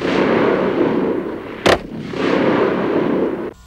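An Advanced Combat Rifle firing caseless ammunition lets off a sharp, loud salvo burst in a single brief crack, set against steady broadband background noise, with another faint report at the very end.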